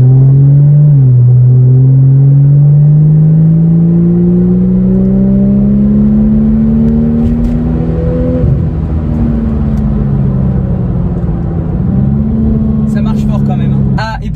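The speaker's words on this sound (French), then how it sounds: "ce modèle d'essai a un échappement modifié, donc un échappement en acier, et le bruit est carrément satisfaisant" Porsche 911 996 Turbo with a modified steel exhaust, its engine droning loud and close as it climbs through the revs, eases off and pulls again, with a voice talking over it.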